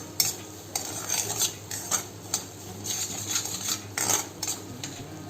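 Semolina dry-roasting in a pan for sheera, stirred with a metal spoon that scrapes and clinks against the pan in irregular bursts, close and clear with no talking.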